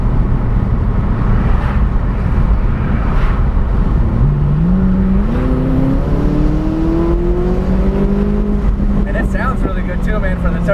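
A McLaren 570S Spider with a twin-turbo V8 cruising and accelerating, a loud steady engine drone from inside the cabin with rising pitch as it speeds up, and people talking throughout.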